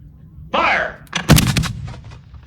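Mortar fire at a Gettysburg Civil War re-enactment: one loud close blast with a rolling echo that follows, heard alone without voices.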